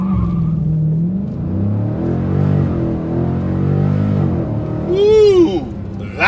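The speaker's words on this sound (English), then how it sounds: "That's launch control, and that is why muscle cars are awesome." A 2020 Dodge Challenger 392 Scat Pack Widebody launches on launch control: engine held at high revs, then a loud roaring surge as it pulls away, and a person whoops near the end.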